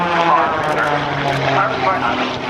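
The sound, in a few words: aerobatic propeller airplane flying at airshow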